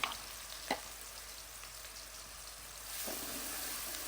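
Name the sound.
onions frying in a pan with cloves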